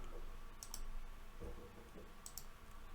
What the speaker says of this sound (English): I'll just click here and refresh.